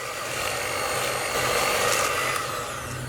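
An electric mixer running at low speed through cookie dough for Persian raisin cookies (shirini keshmeshi) gives a steady, even whir that holds unbroken for the whole stretch, with no talking.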